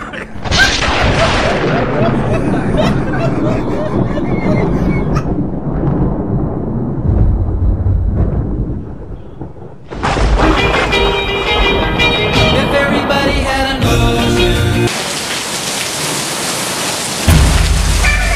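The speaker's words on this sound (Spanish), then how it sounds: "Viene una tormenta terrible" A violent thunderstorm rolls in, with heavy rain hissing steadily and deep booming thunder rumbling loud and close, the noise swelling and shifting abruptly across the span.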